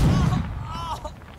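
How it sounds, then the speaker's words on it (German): A grenade goes off in the video game Jagged Alliance 3, a single heavy, muffled boom at the start that rolls off into a fading low rumble within about a second. "dann ist hier wirklich eine Granate angesagt"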